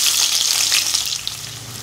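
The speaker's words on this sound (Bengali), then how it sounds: "মাংসর প্রথমে আলু ভাজা হচ্ছে" Potatoes fry in a pan at the start of a meat curry, giving a loud, continuous bright sizzle with faint stirring noises and no voices.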